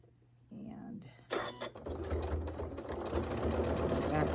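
A sewing machine back stitching while attaching a quilt binding, starting with a few short bursts and then running steadily and close, with someone talking softly over it.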